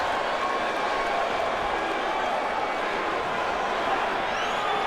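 A UFC arena crowd fills the space between rounds with a dense, steady wash of murmuring, shouts and scattered clapping, a continuous roar from all around.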